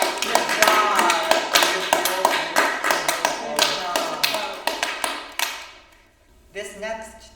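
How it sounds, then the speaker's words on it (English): A Taskmaster studio audience claps in a brisk flurry of sharp hand claps for about five seconds before it dies away, and a voice then speaks. "let's give a round of applause"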